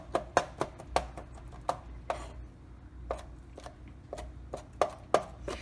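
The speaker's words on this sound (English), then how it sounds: "I'm just chopping them and then I'm gonna add them to the mayonnaise" Chili peppers being finely chopped with a knife on a board for chipotle mayonnaise, heard close as sharp, quick taps in uneven bursts with short gaps.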